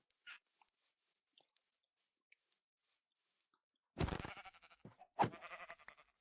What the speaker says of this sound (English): So now we can go kill these sheep